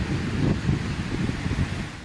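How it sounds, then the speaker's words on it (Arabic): Strong gusting wind during stormy winter weather in Lebanon, a steady loud rush with low rumbling buffets across the microphone, no voices. "يشهد لبنان طقسا عاصفا وغزارة في تساقط الأمطار والثلوج على المرتفعات مترافقا مع رياح قوية"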